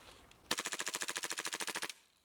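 Rapid full-auto burst from an airsoft submachine gun, about fourteen evenly spaced sharp cracks over roughly a second and a half, loud and close, after a faint quiet lead-in.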